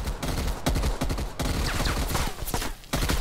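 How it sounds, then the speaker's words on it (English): Gunfire in a prop hunt video game, dense overlapping shots and bursts crackling continuously with brief gaps, loud and busy throughout. "They keep shooting over here."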